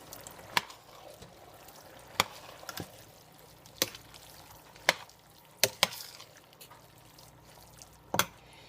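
A pot of homemade chili is stirred. Sparse, sharp spoon knocks and clinks against the pot come at irregular intervals over a quiet, low background.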